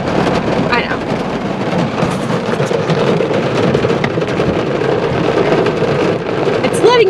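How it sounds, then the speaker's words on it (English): Steady rain hisses and patters loudly and close near Happy Jack, Arizona, a continuous wash of sound with a brief voice partway through. "It's only raining a little bit."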